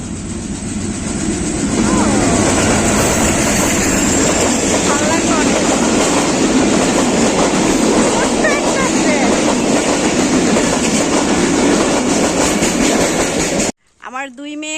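A train rumbles past steadily and loudly with rail clatter for most of the clip, cutting off near the end where a brief voice is heard.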